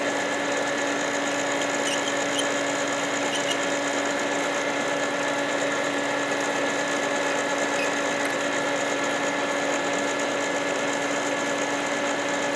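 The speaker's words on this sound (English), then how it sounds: "Now to chamfer and deburr." A Frankford Arsenal prep center chamfers and deburrs a brass cartridge case, putting out a steady motorized whir with high tonal whine and faint scraping that runs unbroken throughout, close and alone.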